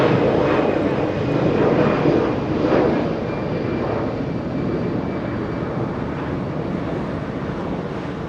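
An Airbus A340 airliner taxis at Los Angeles International Airport, its engines giving a steady, fairly loud broadband roar with a faint high whine, swelling slightly early on and holding even throughout, with wind noise.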